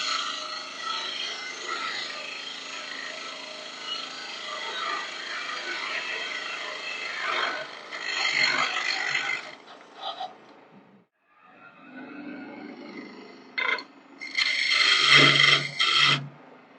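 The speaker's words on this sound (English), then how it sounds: "That was with the square cutter tool." A square cutter tool scrapes a spinning wooden table leg on a lathe in a workshop with a loud, steady rasping whir that stops briefly and then resumes in short cuts.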